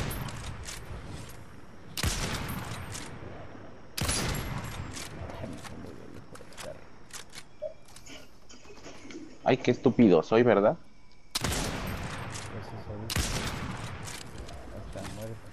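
A shotgun fires in a Wii shooting video game: four or five sharp, loud blasts spaced a couple of seconds apart, with someone talking in Spanish between them.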